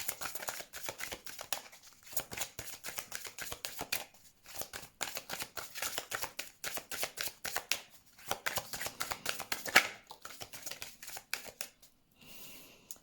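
Oracle cards being shuffled by hand for a reading, a quiet, close, continuous riffle of rapid papery flicks in bursts with brief pauses, alone without talk.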